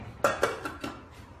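A few quick clattering knocks as vegetables drop into a metal cooking pot for an African vegetable stew, four short close impacts in just over a second.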